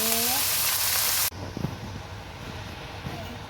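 Chicken meat with turmeric and salt dropped into a hot pan for a potato and chicken roll filling; a loud hiss is cut off abruptly, then a quieter sizzle continues with faint stirring clicks.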